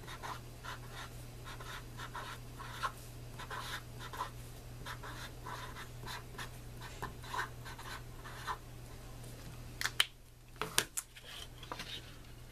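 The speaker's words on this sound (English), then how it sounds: "let me just show you how beautifully these write on paper" Chalk marker writing on paper with a steady run of short scratchy strokes and taps close by, a constant low hum underneath and a few sharper clicks near the end.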